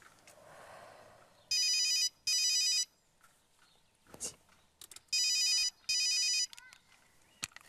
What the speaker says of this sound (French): Laisse sonner deux fois.